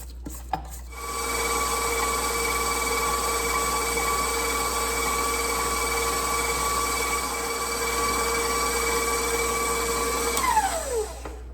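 An electric mixer whipping rum cake batter, a steady loud motor whine with a constant pitched hum that runs throughout, then drops in pitch as the mixer slows and stops at the end.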